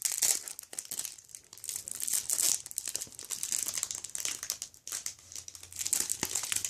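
Plastic wrap crinkled and torn off a Cyber Dragon Revolution structure deck of trading cards, continuous close crackling and crumpling with sharp rustles throughout, no talking.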